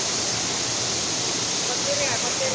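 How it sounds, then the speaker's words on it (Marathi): Heavy monsoon flow pouring over Vajar waterfall in the Konkan countryside during the first rains: a steady, dense roar of rushing water that fills the whole clip without letting up. "आवाज थोडा कमी येत असतोय कारण धबधब्याचा प्रवाह खूप जास्त आहे."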